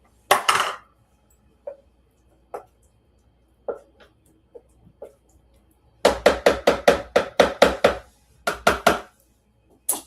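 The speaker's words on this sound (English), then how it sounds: "Okay, I'm going to stir it one more time here." A spoon stirs vanilla ice cream mixture in a pot, making scattered single knocks and scrapes that build into a quick run of rhythmic clinks, close and fairly loud against a quiet room.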